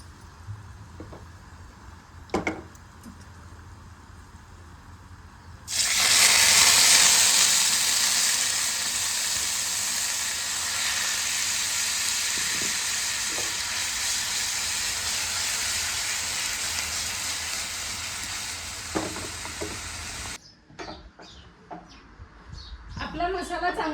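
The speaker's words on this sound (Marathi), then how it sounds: "आपला मसाला चांगला भाजून झालेला आहे." Ground masala with two cardamoms roasting in a pan, a loud bright hiss bursting in after a few seconds and holding steady until it cuts off near the end, close up, with some low background noise around it.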